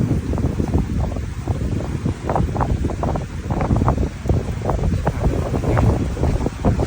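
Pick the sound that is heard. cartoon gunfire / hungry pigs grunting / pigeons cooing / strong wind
strong wind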